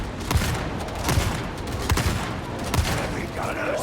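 Heavy gunners fire in Warhammer 40k Darktide: a steady, dense rattle of gunfire broken by regular, heavier thumping bursts about every second, loud and continuous throughout.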